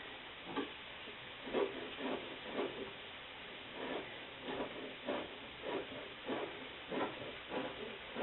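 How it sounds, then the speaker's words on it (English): Shallots cooking in a pan give off a faint, steady hiss, swelling in soft rhythmic pulses roughly every half second with no voices over it. "While those shallots are cooking up there"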